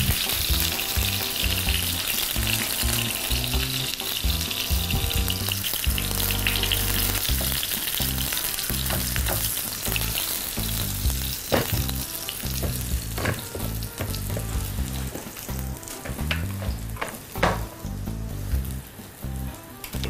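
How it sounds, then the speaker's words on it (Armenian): Eggplant sizzles and fries steadily in a hot pan, a dense crackling hiss that runs loud throughout with scattered sharper pops and occasional stirring clatter near the end, and no voices. "Հիմա սմբուկը սկսի տապակվել"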